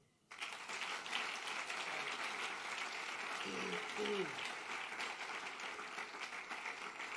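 A church congregation at a Sunday service applauds and cheers in praise of the Lord: steady, dense clapping and crowd noise that starts abruptly and holds for several seconds, with a voice briefly audible.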